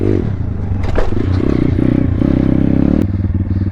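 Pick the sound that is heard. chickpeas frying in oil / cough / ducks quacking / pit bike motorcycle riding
pit bike motorcycle riding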